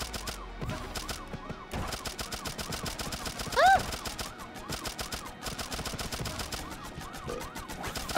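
Gunfire in the video game Turnip Boy Robs A Bank: rapid bursts of shots running almost continuously over game music and effects, with a brief rising whine in the middle.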